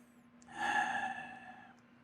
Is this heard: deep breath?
yes